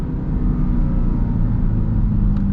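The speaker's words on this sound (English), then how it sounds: "just the supercharger whine sound, that just gets you going" The supercharged engine of a 2023 Dodge Durango Hellcat gives a loud, close, steady low rumble that holds constant throughout, without any voices.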